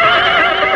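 A horse whinnies loudly and continuously as an audio drama sound effect, a bright, sustained neigh with wavering pitch filling the moment alone.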